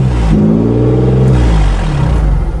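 A vehicle engine revs after a cold start on a freezing winter morning, a loud steady rumble rising and holding throughout with a clattering mechanical edge.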